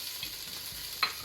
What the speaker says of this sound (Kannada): ಬಸಳೆ ದಂಟು ಸೇರಿಸ್ಕೊಳ್ಳುವ.